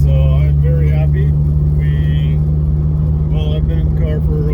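A car engine hums at a steady low drone from inside the cabin while driving, a vegetable-oil-fuelled vehicle with a recently repaired exhaust leak, running under intermittent talk and tones.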